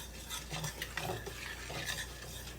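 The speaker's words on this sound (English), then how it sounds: "And you stir this the whole time" Southern white gravy being stirred in a pan over high heat, grease boiling, with a steady scraping stir and soft sizzling bubbles running continuously, close and moderately quiet, with no talk.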